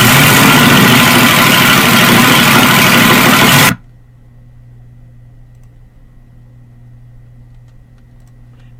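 A homemade compressed air motor runs loud and steady with a dense whirring roar for about four seconds, then cuts off abruptly, leaving a faint low hum.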